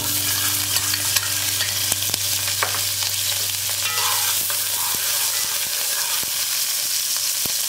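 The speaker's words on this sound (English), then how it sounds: "to your hot oil, you can start adding it however you like. I'm gonna start adding my green peppers." Chopped green peppers sizzle and fry in hot oil in a pan, a loud steady crackling hiss throughout with occasional stirring scrapes and clicks close by.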